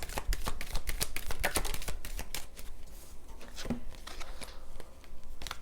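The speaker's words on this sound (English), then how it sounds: "Let's get one more shuffle in on Andrew." Tarot cards being shuffled by hand, a quick run of crisp riffling snaps and flutters, close and fairly quiet, with brief pauses between bursts.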